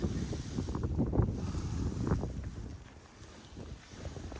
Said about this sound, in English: it's cold and windy up here